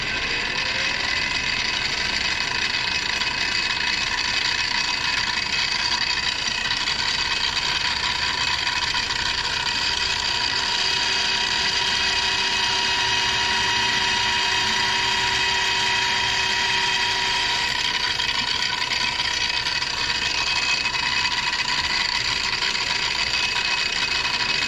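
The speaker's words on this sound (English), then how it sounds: "we'll get the mill running" A milling machine runs steadily in a shop where a kitchen knife set is being made, a continuous loud mechanical drone with a layered whine and a faint rising tone partway through, no talk.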